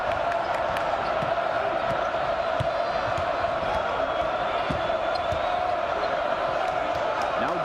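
Basketball arena crowd at a Marquette vs Wisconsin college game, a steady, loud roar of cheering and murmur filling the whole stretch with a few scattered bounces and shouts in it.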